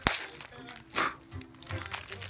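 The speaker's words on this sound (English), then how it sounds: "We're gonna unwrap them right now." Plastic wrapping on Toaster Popems pastries crinkles and crackles in close, uneven bursts as the packet is pulled open.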